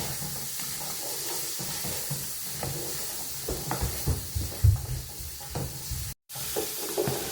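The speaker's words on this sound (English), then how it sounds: "I'm going to add some curry powder, stir" Curry powder being stirred into a sizzling sauce in a pan, a steady frying hiss with soft scraping strokes of the spoon and a few louder knocks, no talking.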